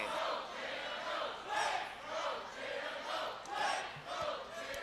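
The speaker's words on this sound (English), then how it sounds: "the crowd's really behind Jada. NXT Universe very vocal here tonight" A wrestling crowd at an NXT event cheers and chants loudly in rhythmic swells, a roaring arena mass of voices rising and falling in waves about every second.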